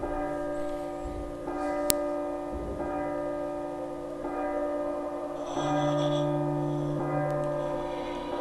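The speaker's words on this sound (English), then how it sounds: "The clock will chime, and you'll hear the haunting sounds begin." A clock chimes in the horror video game P.T. on PS4, with sustained, ringing bell-like tones that linger over a dark, droning ambient hum.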